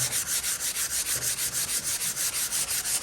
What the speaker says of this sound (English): Okay, sanding block.